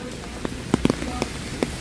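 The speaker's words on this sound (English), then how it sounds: "It's still raining." Rain falls steadily outdoors as a constant soft hiss, with a few scattered louder drips and taps close by and no talking.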